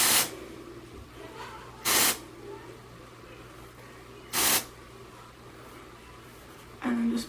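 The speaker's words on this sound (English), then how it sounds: "I'm going to use Dove dry shampoo" Dove dry shampoo sprays onto hair in four short, close hissing bursts spaced a couple of seconds apart, with quiet pauses between them.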